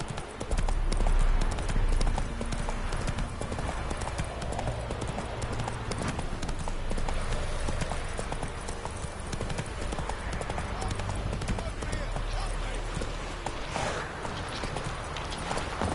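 Roach, a horse in a video game, trotting with a continuous run of hoof clip-clops under a man's speech and game audio.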